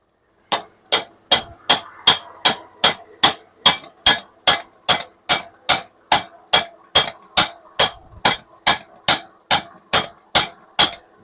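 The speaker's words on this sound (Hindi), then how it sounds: "या हथौड़ी के जरिए से इसको चोट मारा" A hammer strikes a pipe again and again to drive a handle bearing set into place. About twenty-five sharp, ringing metallic blows land at a steady, brisk rhythm, loud and close, with no talk.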